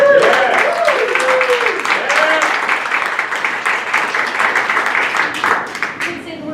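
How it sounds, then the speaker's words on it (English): A live crowd gives steady, full applause for Terrence, a storytelling filmmaker, sustained dense clapping that holds at an even level throughout, with faint voices mixed in. "Let's give it up for Terrence."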